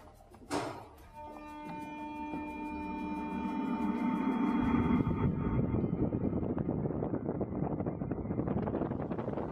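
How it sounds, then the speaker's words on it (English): A subsonic wind tunnel at Delft University of Technology starts up: an abrupt whoosh, then a loud, steady tonal drone that builds into broad rushing airflow noise that holds through to the end, with no talk. "shall we fire the wind tunnel?"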